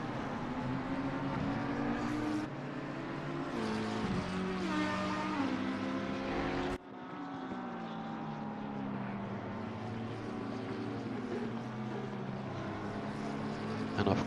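GT3 race cars, a Lamborghini and an Audi among them, scream past at Watkins Glen in ACC endurance racing, with engine notes rising and falling through gear changes, loud and continuous, and one abrupt cut partway through.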